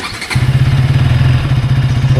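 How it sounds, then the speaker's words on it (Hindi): A KTM Duke 160 Pro motorcycle engine cranks and fires up, settling into a loud, steady idle with a rhythmic low thrum close by. "हम अपनी बाइक स्टार्ट करते हैं।"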